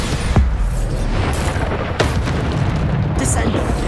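Bombarda spell blasts in Hogwarts Legacy combat, several booming explosions bursting over a dense, continuous battle din, with sharp hits near the start and around the two-second mark.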